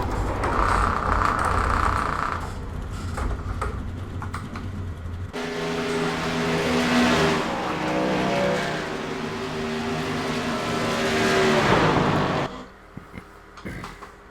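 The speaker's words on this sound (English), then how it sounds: "hear them over these trucks because they're literally that loud" Race truck engines in the iRacing sim game roar loudly and continuously, with rising and falling revs across the whole stretch before dropping off sharply near the end.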